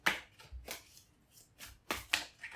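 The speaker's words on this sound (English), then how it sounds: "Ugh, can't shuffle the cards today." Tarot cards riffle and slap in a few short bursts separated by pauses, crisp and close, with no talking.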